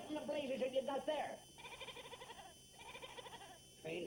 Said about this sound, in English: Go get that goat out of here.